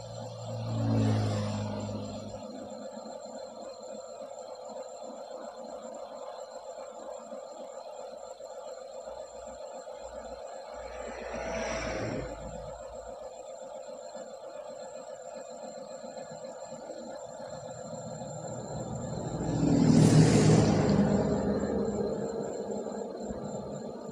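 An Eeco car engine running on LPG idles steadily with a low rumble and vibration, rising in three brief swells of revving, the loudest near the end.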